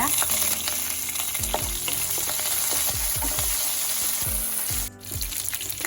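Garlic and curry leaves crackle and fry in hot oil, steady loud sizzling broken by rhythmic scraping strokes of a spoon stirring the pan, with one brief dip near the end.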